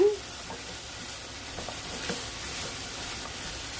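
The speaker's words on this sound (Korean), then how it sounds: "충분히 지금 양파랑 볶아진 것 같아요" Onions stir-fry over high heat in a pan for curry, giving a faint, steady sizzling hiss with occasional soft clicks and scrapes of stirring.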